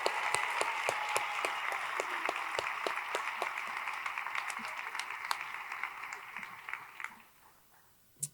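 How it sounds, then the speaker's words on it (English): Audience applause for award winners at a school district celebration, a steady crowd clapping with sharp individual claps standing out, tapering off to near silence at the end. "Let's give all of them another round of applause."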